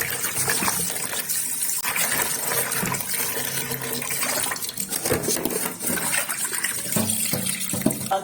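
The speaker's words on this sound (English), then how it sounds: "I'm going to wash this meat thoroughly." Running water gushing and splashing while raw meat for afang soup is washed thoroughly in a sink, a close, continuous irregular stream with no talking.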